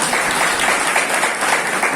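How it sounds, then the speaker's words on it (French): Loud, dense applause from an audience at a vocational school graduation ceremony, a continuous close roar of clapping hands with no pauses. "Applaudissez pour nous"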